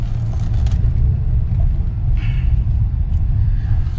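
A 2020 Hyundai Creta with a dual-clutch automatic turns around on an empty road, heard from inside as a loud, steady low engine and road rumble with a brief swell partway through and no talking.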